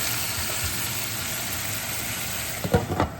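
Zucchini and beef trimmings cooking in a stir-fry pan, giving a steady, continuous sizzle with a soft hiss throughout and a few brief louder clatters near the end.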